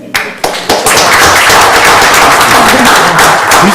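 At a school board meeting, an audience breaks into applause for a teacher of the year: a few sharp, separate claps first, then swelling quickly into loud, dense, sustained clapping from many hands nearby.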